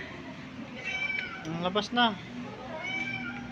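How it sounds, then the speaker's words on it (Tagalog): A cat left alone by its mate meows several times, a few drawn-out plaintive cries clustered in the middle, close and moderately loud, while a person speaks softly over them. "Update sa pusa."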